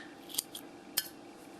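Scissors snip through yarn while finishing a crochet cowl: two or three quick, crisp metallic cuts, close and fairly quiet, with soft room hiss between them.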